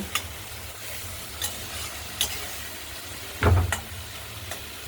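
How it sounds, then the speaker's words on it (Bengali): Tomatoes fry in a kadai with a soft continuous sizzle, punctuated by several sharp spatula scrapes and one louder clunk near the end. "কড়াইয়ের ঢাকনাটা খুলে টমেটোগুলোকে একটু গলা গলা ভাব করে নেব।"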